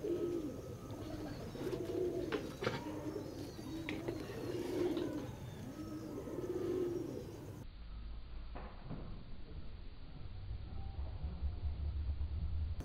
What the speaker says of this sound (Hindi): ये मेरा बटेरा कबूतर है जी